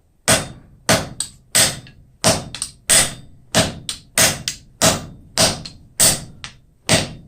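Sharp metallic hammer blows ring out in a steady rhythm as hot aluminum is forged on an anvil, about a dozen strikes close by, each with a bright clang and brief decay.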